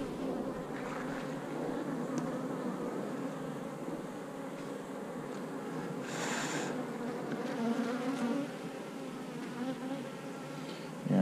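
Honey bees crowd a frame of sealed brood while a nuc hive is being made, giving a steady, close, continuous buzz with no pause.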